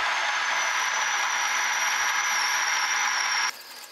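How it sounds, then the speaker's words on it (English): A continuous high-pitched whine of a power drill running steadily as its bit drills into metal, then cutting off abruptly near the end. "we'll just drill it until it intersects"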